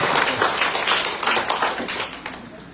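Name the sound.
congregation applause for the Lord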